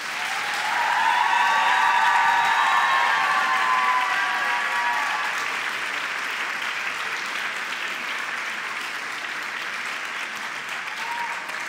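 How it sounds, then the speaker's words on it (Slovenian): A large audience of some 2000 young singers applauds loudly at the close of a children's choir festival in Zagorje ob Savi, a dense sustained roar of clapping that swells early and then holds steady with some cheering. "En aplavz vam."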